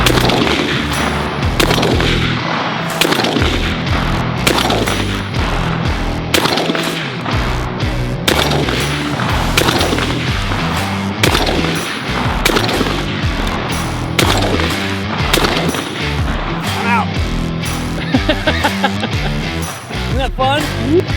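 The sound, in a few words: shotgun blasts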